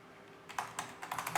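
A short burst of typing on a computer keyboard as a folder name is entered: after a brief quiet moment, about eight quick, close key clicks follow in an uneven rhythm.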